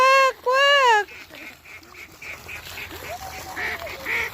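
Ducks quack repeatedly at close range, several loud nasal calls at the start followed by fainter scattered quacks from a flock amid outdoor ambience.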